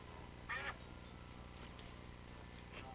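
Ducks quack in the video game Dreams, one loud, clear burst of quacking followed by a few faint, scattered calls over a steady backing track.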